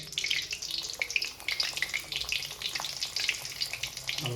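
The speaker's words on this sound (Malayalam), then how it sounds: "അപ്പോൾ നമ്മുടെ എണ്ണയൊക്കെ ചൂടായിട്ടുണ്ട് നമുക്കിനി ഇത് ഓരോന്ന് അങ്ങോട്ട് പൊരിച്ചെടുക്കാം നമ്മുടെ കെ എഫ് സി ചിക്കൻ" Pieces of KFC-style fried chicken hiss and crackle in hot oil at home, a steady, fairly quiet sizzle with scattered sharp pops and no talking.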